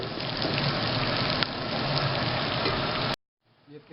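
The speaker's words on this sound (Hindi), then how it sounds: "इसको लाइट गोल्डन तक हम इसको फ्राई करेंगे" Chopped onions fry to a light golden colour in hot oil for Arabian Bukhari rice, giving a loud, steady close sizzle that cuts off abruptly near the end, followed by a faint murmur.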